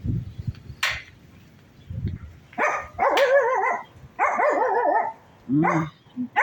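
A dog barks repeatedly nearby in loud, drawn-out bursts with a whining, yowling tone, separated by short pauses.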